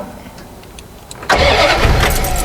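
A Dodge Ramcharger that has sat for 20 years cranks briefly, then its engine suddenly fires and catches, roaring loudly up close before settling toward a rough idle.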